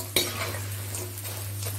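Edible gum frying and puffing up in a pan, a short burst of sizzle opened by a sharp utensil clink, then soft stirring scrapes, no voices.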